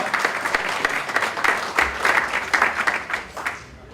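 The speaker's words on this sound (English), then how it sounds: "let's give a round of applause to these people" A breakfast gathering's audience claps for a group of people, a lively round of applause with distinct individual claps that swells midway and then tapers off at the end.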